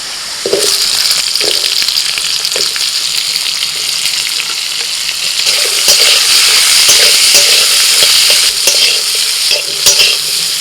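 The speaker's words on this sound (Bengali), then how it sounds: "রসুনটা ভাজা হয়ে গেলে দিয়ে দিচ্ছি পেঁয়াজ" Steady hissing sizzle of onions frying in mustard oil with chopped garlic, with occasional scrapes and knocks of stirring, close and fairly loud throughout.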